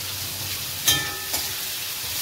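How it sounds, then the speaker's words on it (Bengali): Vegetables fry in a pan on a home stove, giving a soft, steady sizzling hiss broken by two brief clatters of a utensil. "এবার এগুলো দিয়ে মা মনে হয় ভাজবে"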